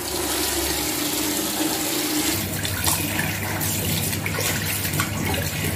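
Water runs steadily from a tap into a bathtub in a home during a very hot summer in Guwahati, a continuous close splashing hiss that deepens partway through as the flow changes, with no talking.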